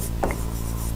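Short scratchy stroke of writing on a board during a fifth-grade math lesson on averages, one quick mark about a quarter second long over a steady low room hum.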